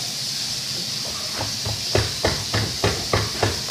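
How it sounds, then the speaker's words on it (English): Chunky butter is mashed into cookie dough with brown sugar, vanilla and chocolate chips; after a couple of seconds, a run of about six steady, rhythmic thumps rises over a constant background hiss. "I'm mushing up the butter because it's still chunky"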